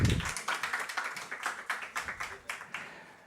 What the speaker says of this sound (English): May we have a round of applause, please?